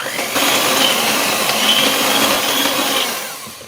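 An electric mixer whirs steadily through chocolate cake batter with oil just added, a loud continuous buzzing drone that holds for several seconds, then tapers off as it slows down.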